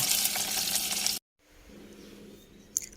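Small capelin fish frying in hot oil, a steady close sizzle for about a second that cuts out abruptly, then a quieter bubbling crackle with a brief sharp clink near the end.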